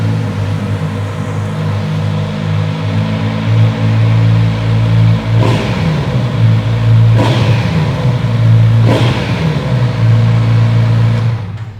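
A Kawasaki four-cylinder motorcycle engine idles close by with a steady rumble, then is revved in three sharp blips a second or two apart, each settling back to idle.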